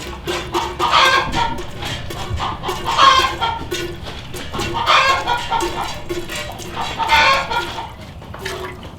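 Chickens clucking repeatedly near a milking area on a farm, a close, busy run of rhythmic clucks and squawks that rise and fall in bursts across several seconds.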